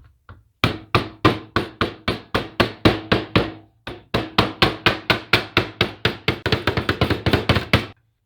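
A hammer and mallet pound an ammo can lid liner flat in a long run of sharp, ringing metal blows, close and loud, pausing briefly before a quicker, denser burst of strikes toward the end.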